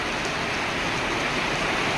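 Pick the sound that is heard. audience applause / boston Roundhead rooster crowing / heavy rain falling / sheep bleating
heavy rain falling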